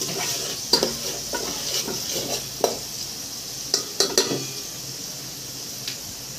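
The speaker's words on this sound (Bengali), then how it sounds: "হালকা করে পেঁয়াজটা ভেজে নেব, ব্রাউন করব না" Small onion frying lightly in a pan for pyaz ki sabzi, a steady soft sizzle under repeated scraping stirs, with several sharper utensil knocks spread through; no talking.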